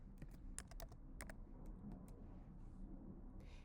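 A computer keyboard gives a few faint, scattered key clicks in a quiet room. Short clusters of taps are separated by pauses, with no voice.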